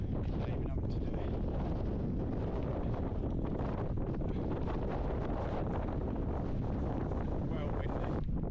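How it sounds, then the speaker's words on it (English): Strong wind buffets the microphone on the exposed hilltop at the top of Grinsbrook Clough on the Edale skyline, a loud, constant roar lasting throughout with no break. "Well windy."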